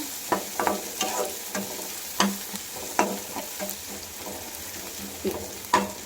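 Onions and mushrooms with turmeric sautéing in a pan, a low sizzle punctuated by repeated sharp scrapes and clinks of a spoon stirring at an uneven rhythm, close by with no voices.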